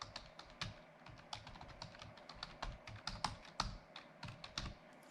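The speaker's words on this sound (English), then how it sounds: "next we're going to type in sudo nano slash" Steady, quiet clatter of fingers on a computer keyboard typing a sudo nano terminal command while setting up Pixelcade on RetroPie, with keystrokes running continuously and unevenly, close up.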